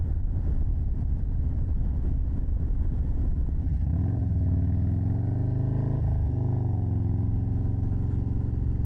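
A loud custom motorcycle engine runs steadily at around 2,500 RPM, with a deep continuous rumble and a slight shift in pitch partway through, no voices over it.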